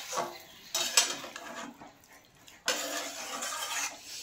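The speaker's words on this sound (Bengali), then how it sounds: "এবার আমি এটা ঢাকা দিয়ে মিনিট 10 জন্য রেখে দেব।" A lid is set on a cooking pot of amudi fish and vegetable curry, with two close bursts of metallic clatter and scraping separated by a quieter pause, and no talking.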